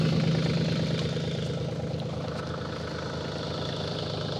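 A tractor engine idles steadily during snow clearing, a close, loud, low rumbling drone with an even vibrating throb that holds constant throughout, with no talk.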